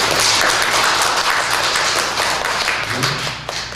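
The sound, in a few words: congregation applause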